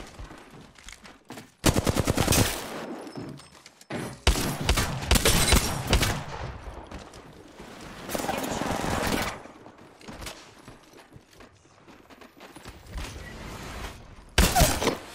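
Video game gunfire in bursts of rapid automatic shots, loud and close, separated by brief quieter gaps with some mechanical clatter in between.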